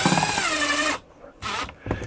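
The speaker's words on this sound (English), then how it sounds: "We can use the screws that come in a kit and mount up our panel." A power drill whines steadily as screws from a kit go in to mount an RV holding-tank monitor panel on thin luan wood in a 2022 Renegade RV, followed by two shorter bursts of drilling.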